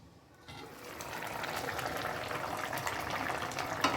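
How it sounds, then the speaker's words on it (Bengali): Water pours into a pot of potatoes cooked with spices for masala kofta, starting after a quiet moment as a rising, steady gushing hiss that fills the space, with a small knock near the end. "আমি এবার আলুগুলো সেদ্ধ হওয়ার মতো জল দিয়ে দিচ্ছি।"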